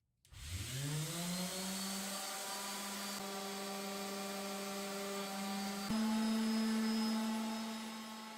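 An electric power sander runs on wood: a steady, loud motor whine spins up, holds an even pitch, then shifts slightly higher partway through as the load changes, with no talking.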